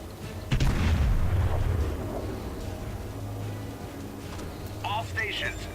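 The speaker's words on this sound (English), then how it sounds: "I'm firing AP again" Main guns of the tier 6 Japanese cruiser Aoba fire armor-piercing shells in a naval battle game: a loud, deep boom that rolls on for over a second, then a fading rumble, with a voice talking underneath.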